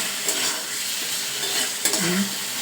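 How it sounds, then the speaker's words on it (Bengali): Potatoes being stirred into spiced oil in a pan give a continuous close sizzle, with a few soft scraping strokes and light clinks of the utensil against the pan. "আলুগুলো দিয়ে দেবো নাড়াচাড়া করে"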